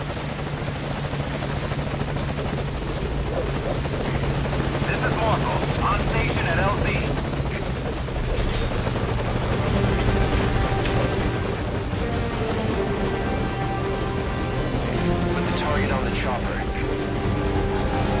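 A helicopter arrives in the video game Metal Gear Solid 5: Ground Zeroes, its loud, steady rotor thump and engine drone filling the scene, with voices talking over it.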